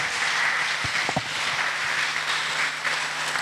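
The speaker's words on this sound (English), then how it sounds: "Put your hands together for her" Audience clapping at a job-search conference session, a broad wash of applause held at an even level throughout, with a few faint thumps and a low hum underneath.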